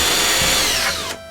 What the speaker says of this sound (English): drill a pilot hole to the other side of the door